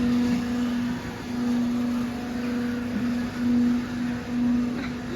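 A mechanical ride hums steadily with a droning motor tone that pulses on and off, a continuous whirring machine sound at moderate distance.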